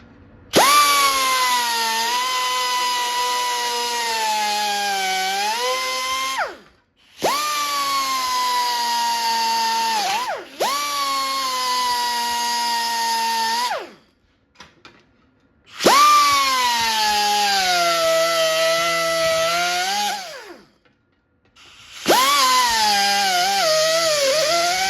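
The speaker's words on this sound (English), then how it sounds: "Just use my cutoff wheel for this." Cutoff wheel slicing through the metal front valance of a 1949 Studebaker, loud and close, spinning in about five long whining bursts that sag in pitch under load, separated by short silent pauses.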